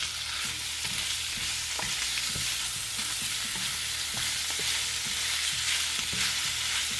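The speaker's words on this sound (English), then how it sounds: "We just saute this for a few minutes." Pork chop pieces sautéing in a pan, with a steady bright sizzle and occasional soft stirring knocks throughout, close and continuous with no talking.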